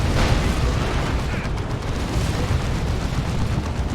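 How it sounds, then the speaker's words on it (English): Creeping Barrage artillery in a Dawn of War 2 3v3 match: a dense, continuous rumble of overlapping shell impacts and booms, loud and sustained throughout without clear gaps. "oh, Creeping Barrage, not a rocket run."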